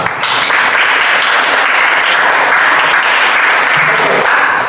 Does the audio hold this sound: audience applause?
yes